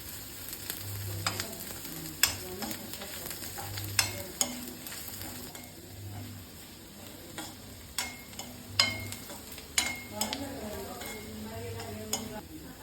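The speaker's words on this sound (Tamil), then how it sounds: "நல்லா ப்ரௌன் ஆகிற வரைக்கும் வதக்கணும்." Onion and garlic frying in a pan while being stirred, with a steady soft sizzle under repeated sharp scrapes and clinks of a spoon against the pan, fairly quiet and close.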